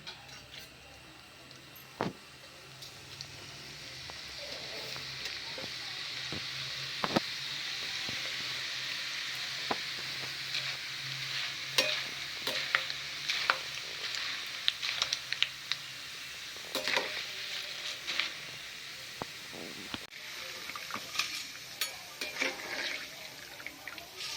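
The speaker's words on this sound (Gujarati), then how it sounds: "હવે તેને તેલ ગરમ કરવા મૂક્યું છે. તળી દઈશું. હવે તળીશું." Soft bubbling and crackling of rice flour sev frying in oil, growing busier over time with scattered pops and clinks of a utensil.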